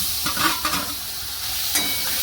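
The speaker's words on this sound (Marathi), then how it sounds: "त्याच्यामध्ये टाकायची ही केळी" Sliced bananas frying in hot ghee with roasted poppy seeds for modak, a close steady sizzle broken by a few scraping stirs of a spoon in the pan.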